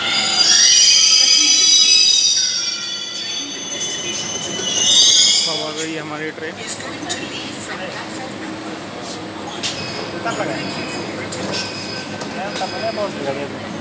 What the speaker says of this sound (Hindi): और हमारी ट्रेन यहाँ पर आने वाली है आनंद विहार के लिए